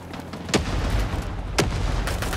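Grenade blast and booming gunfire in the Vietnam War shooter Rising Storm 2, with two sharp loud bursts standing out over a dense, continuous rumble of battle noise.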